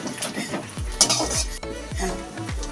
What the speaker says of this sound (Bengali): নারকেলটা একটু ভালো করে ভেজে নেবেন